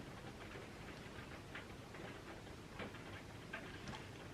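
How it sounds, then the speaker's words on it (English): Steady rain falls outside during summer garden party preparations, a constant close hiss of drops with faint scattered ticks of water on surfaces and no voices. "if that rain could just stop, my tablecloth is going to be getting soaked"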